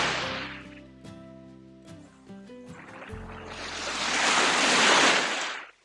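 Wind gusts and breaking surf at a beach on Koh Larn Island, Thailand, at sunrise, with a broad roaring wash that swells loudly in the second half while a tonal musical background plays underneath.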